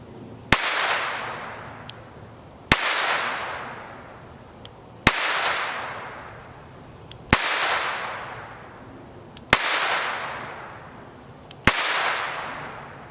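Beretta Model 418 pistol fired at an outdoor range: six sharp, loud shots spaced about two seconds apart, each with a long fading echo, and no talking.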